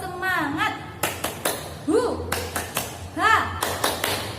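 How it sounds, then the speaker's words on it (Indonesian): Children perform the tepuk semangat spirit clap together in a classroom: crisp rhythmic claps in a patterned beat, with voices chanting and calling along in between. "Kita tepuk semangat bersama-sama"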